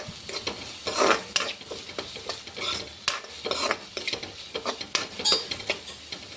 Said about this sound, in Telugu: ఇలా వేగిన గుడ్లోకి సన్నగా తరిగిన క్యారెట్ మిర్చిని వేసుకొని కలుపుకుందాం